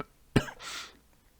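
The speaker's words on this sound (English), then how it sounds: "I think I may need to clear my throat" One sharp throat-clearing cough, close and brief, followed by a breathy exhale trailing off into quiet.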